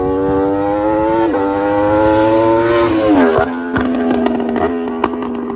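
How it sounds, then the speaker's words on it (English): Yamaha R1 track motorcycle engine running loud and close with a steady high-pitched drone, its pitch dipping and rising through gear changes and revs, with brief clattery mechanical sounds toward the end. "the bike sounded phenomenal"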